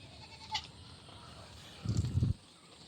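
A goat soaked in the rain gives one short, fairly close bleat near the end, over quiet rain-like background noise.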